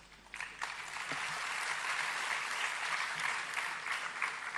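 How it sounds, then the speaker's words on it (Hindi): Audience applause at the Lata Dinanath Mangeshkar award ceremony in Mumbai: a continuous, even wash of clapping from a large crowd, heard at a distance and fairly soft, holding steady throughout. "जो तालियां पड़ी उसकी गूंज अभी तक मेरे कानों में है"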